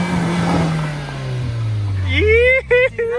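A BMW 335is with upgraded 18-inch wheels, better tires and sway bars revs hard nearby, a loud rising engine roar with quick throttle blips at the end, mixed with excited voices in the car.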